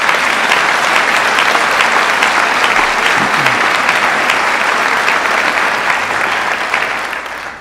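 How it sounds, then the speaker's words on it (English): Sustained applause from a large crowd, steady and loud throughout, tapering slightly at the end. "Give yourselves a round of applause."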